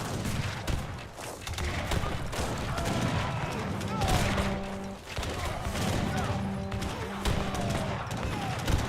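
Gunfire from falconets and infantry guns in a real-time strategy battle, with repeated volleys and crackling shots layered over busy battle noise while a commentator talks over it.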